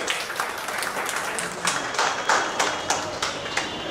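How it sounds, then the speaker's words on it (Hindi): Audience applause for a prize winner at a children's painting competition during a cultural festival in Bhagalpur, a moderate crowd clapping with sharp, uneven individual claps, fairly close and steady throughout. "जोरदार ताली"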